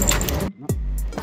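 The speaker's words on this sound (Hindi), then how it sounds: "पहले ताला खोल लेता हूँ" Keys rattle and click as a motorbike lock is opened early in the morning before a ride to Vrindavan: a short close jingle of metal, then a pause and a couple of sharp clicks.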